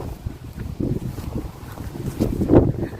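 Gusty wind buffets the microphone outdoors, a continuous low rumble that swells and fades, loudest near the end, with no talk heard.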